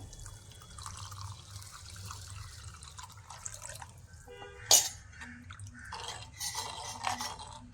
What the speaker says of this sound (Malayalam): ഇനി നമുക്ക് ഇതിലേക്ക് കലക്കി വച്ചിരിക്കുന്ന കോൺഫ്ലവർ ചേർത്ത് കൊടുക്കാം